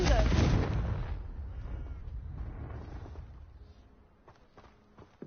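The Confringo fire-blast spell in Hogwarts Legacy bursts with a loud explosive boom that rolls off into a decaying rumble, followed by faint scattered crackles.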